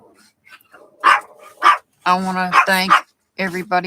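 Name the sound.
dogs barking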